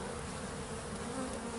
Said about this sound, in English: They're just simply orienting themselves to the mouth of this hive.